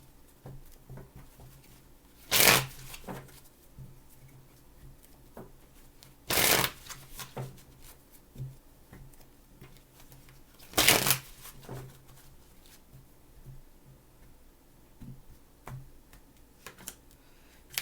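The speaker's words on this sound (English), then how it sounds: "Three more shuffles." Cards are shuffled in three sharp riffling bursts spaced a few seconds apart, with soft handling noises and quiet room hum between them.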